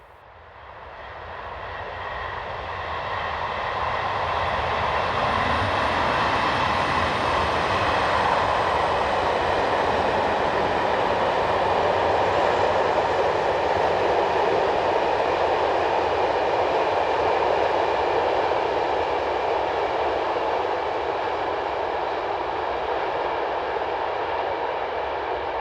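Swiss Re 6/6 (Class 620) electric locomotive 11650 passing near Muri in the evening, a loud rising rumble that swells over several seconds into a sustained roar of wheels and motors, then slowly fades.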